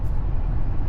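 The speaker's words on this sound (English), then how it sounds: "The tires don't have a lot of noise" Steady, low tire roar from a 2026 Chevy Silverado 2500 ZR2 Bison cruising on new tires, a dense, even rumble heard close and uninterrupted for under a second.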